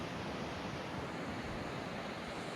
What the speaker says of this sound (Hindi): बहुत ही ठंडी हवा चल रही